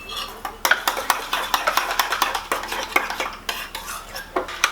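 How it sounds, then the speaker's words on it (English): A sauce of hoisin, tomato ketchup, sriracha and mayonnaise is whisked in a bowl, with rapid, rhythmic clinking and scraping of a utensil against the sides, close and steady throughout. "So once it's all in, we'll mix together."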